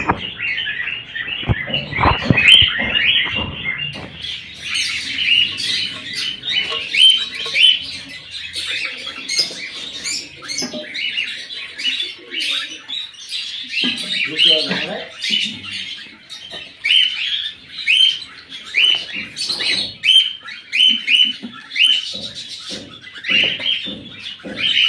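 Cockatiels near a breeding box give rapid bursts of shrill chirps and squawks, loud and close, with scratchy rustling between calls and no talk.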